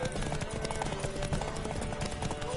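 Hoofbeats of a horse in a PS4 video game, steady clip-clopping at a trotting pace, partly buried in dense game audio with brief bits of character voices.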